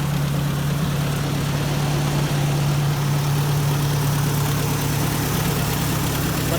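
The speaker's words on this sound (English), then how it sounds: "There, now we got it running again." A Ford 640 tractor engine, fitted with a new aftermarket carburetor, idles steadily up close with a continuous low, even rumble and no voices.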